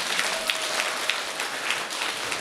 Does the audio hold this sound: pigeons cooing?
no